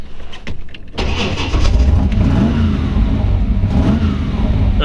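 The engine of a 1933 Ford Tudor steel street rod catches and roars to life, then revs loudly and steadily up close, a deep rumbling growl that holds throughout.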